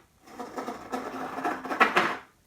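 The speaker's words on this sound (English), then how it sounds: "you're going to take your ruler and you're going to scrape off" A ruler scrapes excess shaving foam off a card, a short series of close, soft rasping strokes with irregular rhythm, no talk.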